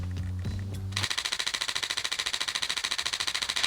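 A Canon EOS R7 or R10 camera fires a long continuous burst, a rapid, evenly spaced stream of close shutter clicks that starts abruptly after a brief lower hum and runs on with no pause.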